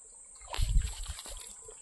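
Spring water trickles and splashes softly nearby, a faint, uneven flow with a brief stronger gush in the middle.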